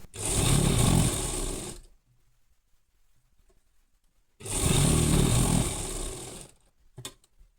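Sewing machine stitching invisible piping onto a kurti: two close bursts of fast mechanical whirring, each about two seconds long, separated by a quiet pause, then a brief click at the end, with no talking.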